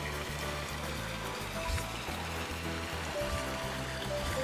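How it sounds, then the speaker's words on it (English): Rushing, churning water flows steadily down a water slide in Ty the Tasmanian Tiger, a continuous low roar with a pulsing rhythm, fairly quiet and without talk. "Near the end of this water slide."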